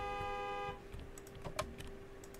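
A car horn at a gas station gives one steady, fairly faint honk lasting under a second, then fades into quiet ambient noise with scattered light clicks and no talking.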